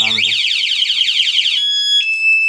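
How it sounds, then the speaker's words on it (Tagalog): Aftermarket security alarm on a Kawasaki Rouser 180 motorcycle, loud and close: rapid warbling electronic siren sweeps that then switch to steady high beeping tones. "Kung pasagdahan mong alarm, mapalo mo 15 seconds."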